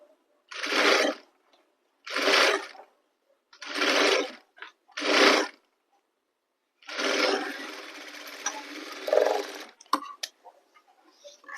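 A sewing machine stitches a blouse in four short separate bursts, then one longer run of continuous whirring. Each burst is close and clear, with silence between them.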